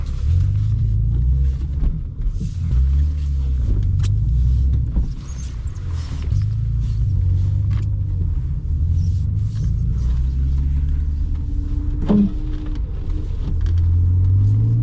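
Rear-wheel drive car moving slowly through snow, a steady low engine rumble and drivetrain drone holding close and loud throughout with slight rises in pitch.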